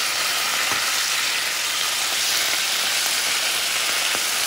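Top round roast beef slices sizzle in gravy in a hot pan, a steady close hiss broken by a few faint pops.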